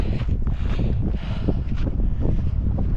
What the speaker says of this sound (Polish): Niedobrze, bo tak zimno wieje.